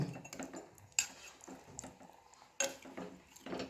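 A spoon scrapes and clanks against a cooking pot while marinated chicken is stirred, giving sparse, quiet knocks with two sharper metallic hits amid near silence.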